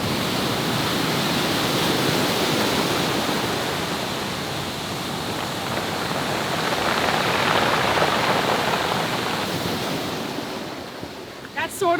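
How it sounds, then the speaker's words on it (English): Waves wash up and drain back over a pebble beach in El Salvador, a loud, close, continuous roar of surf and rattling water with wind buffeting the microphone, swelling and easing in long surges. "I love the sound that the pebbles make when the waves go back."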